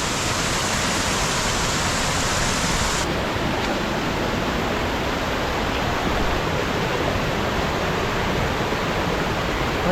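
Thalaiyar waterfall in Kodaikanal, running with low water, gives off a constant, dense roar of falling water that stays unbroken and fairly loud from start to finish.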